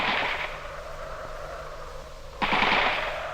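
Bursts of rapid machine gun fire rattle out, a long volley that fades, then a second loud burst after a short lull.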